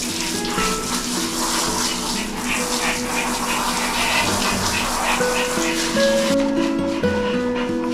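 Water runs steadily from a tap into a tub while a white rescued dog named Loui is bathed indoors, a continuous splashing wash with tonal hum, unbroken for the whole stretch.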